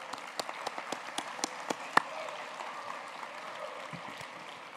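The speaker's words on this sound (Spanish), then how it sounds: "pedir un aplauso para todas esas organizaciones" An audience at a drug policy conference in Bogotá claps, scattered individual claps building into soft, fairly distant applause in a large hall.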